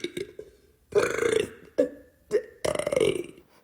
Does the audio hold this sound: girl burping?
yes